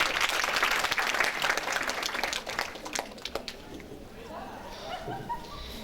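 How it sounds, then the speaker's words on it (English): Audience clapping at a school graduation ceremony, strongest at first then thinning out, with a dog's yips and whimpers and some voices audible as it dies down. "Can we have a big round of applause for them?"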